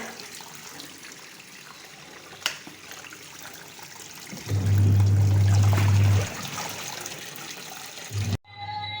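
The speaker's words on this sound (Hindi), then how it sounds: "ये देखिए जी, पानी भी भर गया है मशीन में" Water rushes loudly into a washing machine drum for a couple of seconds amid household background noise, then stops, with a short burst returning near the end.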